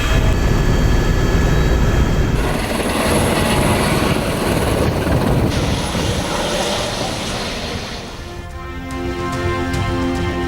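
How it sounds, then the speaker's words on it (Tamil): A tourist ride helicopter flies nearby at Kovalam, its loud rotor and engine roar filling the air steadily before easing slightly toward the end. "பொங்கல் ஸ்பெஷலாக கோவளத்தில் மீண்டும் தொடங்கியது ஹெலிகாப்டர் சவாரி"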